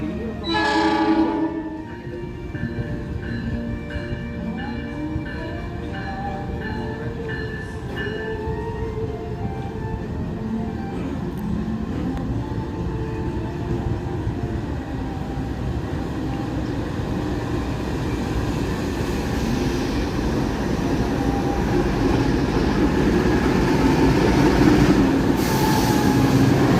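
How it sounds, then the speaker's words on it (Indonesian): The Kamandaka passenger train in Indonesia, locomotive heading toward Cilacap, rumbles steadily nearby, with a horn blast at the start, a rolling mechanical roar and occasional wheel squeal building louder over time. "Kereta api Kamandaka berpindah arah lokomotif menuju ke arah Cilacap"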